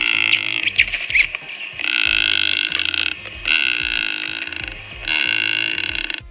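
Courtship calls of a large, eagle-like snake-hunting bird: a series of loud, drawn-out croaking, burp-like calls in roughly four separate bursts, each held for about a second, heard close and clear without talk.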